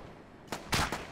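Gunfire in the video game Arma 3: two or three sharp shots crack out in quick succession during a firefight, loud and close, with no talk.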